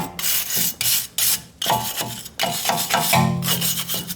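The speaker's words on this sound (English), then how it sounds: "we're gonna clean up this surface right here" Irregular bursts of scrubbing and scraping on the rusty, dirty axle flange of a 2008 Toyota Tundra during a rear brake rotor job, close up, with short pauses and some metallic clatter between strokes and no voices.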